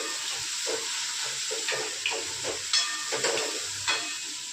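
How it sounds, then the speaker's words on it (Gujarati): Dal tempering in hot oil crackles and sizzles continuously, with small popping bursts scattered through a steady hiss, close and fairly quiet. "આપણે દાળનો વઘાર કરી નાખ્યો છે."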